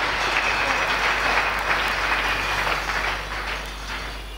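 A church congregation applauding loudly at a sermon: dense, sustained clapping from many hands, full and close throughout, with no talk, fading slightly toward the end.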